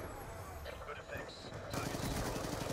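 Dense, rapid gunfire in Black Ops 2, a continuous rattling stream of shots that swells louder partway through, with a player talking over it.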